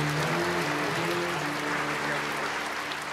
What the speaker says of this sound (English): give the warmest, the biggest round of applause as she makes her way to the stage